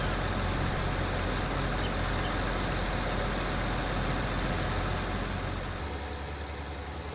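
A tractor engine pulls a cultivator across a field in Farming Simulator 19, a loud, constant low drone with dense broadband rumble that shifts slightly in tone near the end, with no voices over it.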